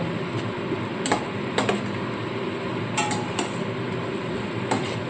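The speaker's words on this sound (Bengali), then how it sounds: "এইভাবে মশলাটা খুব ভালো মতো কষিয়ে নেব" Masala being sautéed in a pan for a Bengali pabda fish curry, heard as repeated clinks and scrapes of a spatula against the metal pan over a steady low cooking hiss, with no voices.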